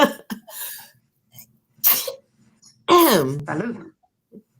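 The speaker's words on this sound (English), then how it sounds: "excuse me, I have to sneeze." A sudden sneeze bursts out, followed by a short vocal exhale, with brief breathy sounds around it.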